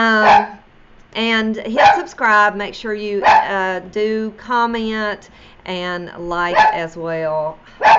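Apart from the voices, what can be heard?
dog barking in the background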